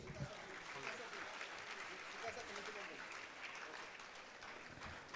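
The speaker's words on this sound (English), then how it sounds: "Let the round of applause continue," Audience applause at the inaugural session of a two-day conference for CA students, a continuous wash of many hands clapping heard faintly and from a distance, with some talk mixed in.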